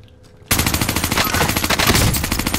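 Rapid automatic gunfire in the shooter game Fortune's Keep, loud and close, with a quick rattling burst of repeated shots after a brief quiet start.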